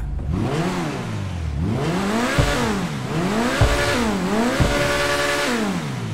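A Grotti X80 Proto sports car engine in GTA V, rear-wheel drive, revs repeatedly, rising and falling through gear changes in a looping pattern, loud and close with no talking.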